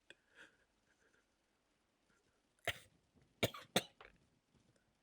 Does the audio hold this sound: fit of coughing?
yes